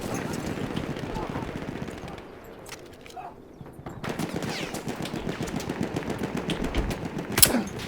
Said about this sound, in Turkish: Adamlar direkt bana sıkıyor abi.